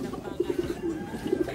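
Thai pigeons cooing nearby, a series of soft low rhythmic coos repeating through the short stretch, alone without talk.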